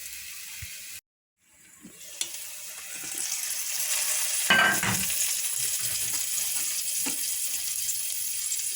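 Chicken and vegetables sautéing in a pan for tavuk sote make a steady, close sizzle and crackle, broken by a brief silent gap near the start and a few louder spatters and stirring bursts.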